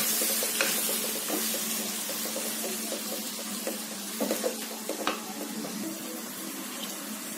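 Chicken fries in a pot for semiya biryani, a soft constant sizzle broken by clinks and scrapes as a spoon stirs the pot.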